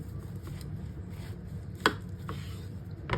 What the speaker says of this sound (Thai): ต่อมานะคะเราก็จะผ่าแบ่งครึ่งลูกแบบนี้เลย